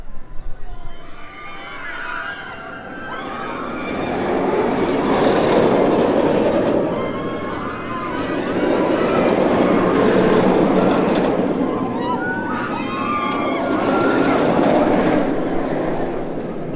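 Dragon Khan roller coaster train at PortAventura thunders past in loud rolling surges with rattling clatter, rising and falling in repeated waves, with a voice occasionally heard over it.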